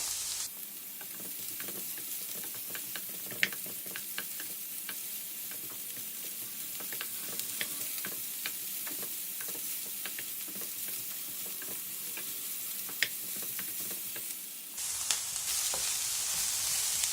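Onions sauté on high flame in a pan with a steady, close sizzle and occasional crackles and stirring scrapes, running alone for most of the clip before the hiss grows brighter near the end.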